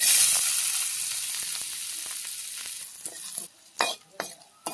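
Ginger pieces frying in a pan with curry leaves, a steady loud sizzle that thins out and breaks into sharp spatters and stirring scrapes toward the end, with no talking.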